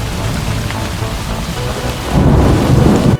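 Steady rain pours down during a thunderstorm, with a continuous low rumble of thunder that swells louder and heavier about two-thirds of the way through, filling the whole clip with no talk.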